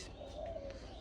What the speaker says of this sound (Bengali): কি সুন্দর চারদিকে পাখিদের আওয়াজ